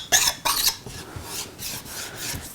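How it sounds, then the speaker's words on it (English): Excess dried epoxy is scraped off a Grassroots powsurfer board in a light scrape: two loud rasping strokes up front, then several quieter rhythmic scraping passes, close and alone. "just a light scrape."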